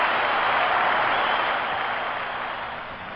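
A hockey crowd at the Boston Garden roars and applauds after a Bruins goal, a dense, loud wash of cheering and clapping that slowly fades over a few seconds.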